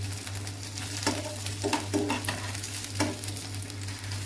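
Chicken kebabs fry in a pan with a steady sizzle, broken by a few short stirring and scraping bursts as the pieces are moved and turned, close and fairly loud, with no talking.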